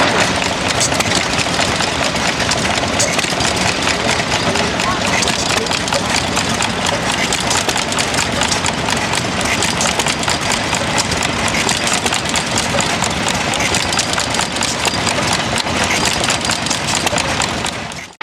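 A half-size, Australian-made Buzzercott 1.5 horsepower engine with a low-tension igniter runs close and loud, a steady, rapid chugging beat that holds for the whole stretch before cutting off at the very end.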